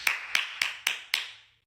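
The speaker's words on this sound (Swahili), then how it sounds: "Makofi." Five sharp, evenly spaced hand claps ring out close and alone, each with a short decaying tail, forming a brief round of applause.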